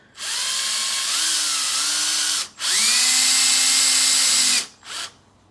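A power drill bores holes through a wooden planter board, the motor whining in two long sustained runs with a brief short burst at the end, loud and close with no talk.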